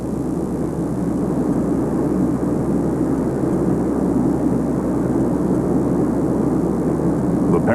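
A Soviet military aircraft carrying paratroops drones steadily in flight at over 465 miles per hour, with a loud, continuous engine roar and no pauses.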